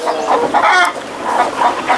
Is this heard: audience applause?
no